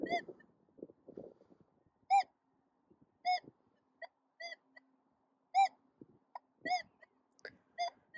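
A Nokta Makro The Legend metal detector gives about seven short, clear electronic beeps at irregular intervals, after some soft scraping and rustling at the start.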